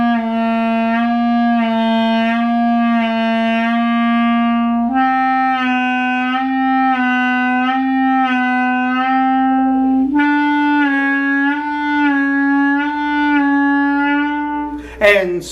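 Clarinet playing long sustained notes in a pitch vibrato exercise, jaw pulsing on quarter notes at 60 so the pitch wobbles slowly, a few held tones changing pitch, close and loud, alone until a brief noise at the end.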